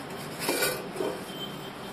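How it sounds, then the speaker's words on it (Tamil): Ghee is rubbed around the inside of a cooking pot for biryani, giving soft scraping and a couple of light metallic scuffs, close and quiet. "இந்த நெய்யை வந்து இந்த பாத்திரம் பூரா நல்லா இப்படி தடவிடுங்க."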